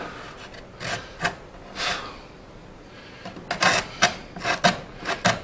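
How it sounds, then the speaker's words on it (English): A hand plane trims a wooden wedge during a boat restoration, making short rasping strokes up close, a few spaced out at first and then a quicker run of repeated shaves. "Bit more fine trimming on the wedge, so it's level with the rest of it."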